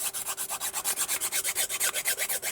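A resin dish being sanded by hand, a fast even rhythm of about twenty rasping back-and-forth strokes, close and crisp, with no talking over it.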